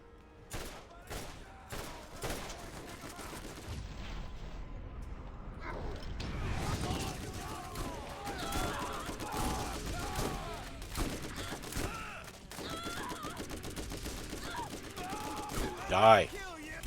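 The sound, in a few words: gunfire from a gun in video game Borderlands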